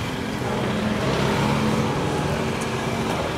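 A noisy vehicle exhaust produces a steady, loud broadband roar with a low rumble, continuous and close throughout, with no voices.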